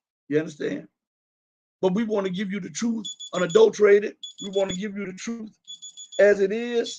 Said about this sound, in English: That's the alarm.